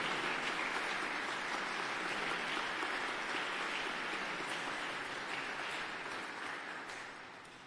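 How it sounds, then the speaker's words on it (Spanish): A crowd at a magazine presentation and round table applauds steadily with dense clapping for several seconds before it starts to fade near the end. "pido un primer aplauso para él"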